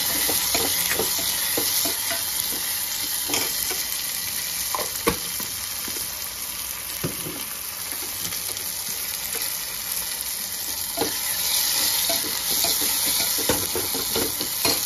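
Tomatoes roast in a pan with a loud, continuous sizzle, while a spoon stirs and scrapes them in frequent short strokes throughout, with no talk.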